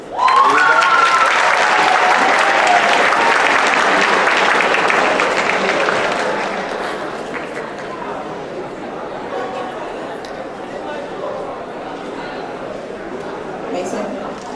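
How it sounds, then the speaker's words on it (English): An audience at a Black History Month presentation applauds to welcome a beatboxer. The clapping is loud and dense for about six seconds, then thins to softer scattered clapping and crowd murmur. "please make sure you give a round of applause for him for that too"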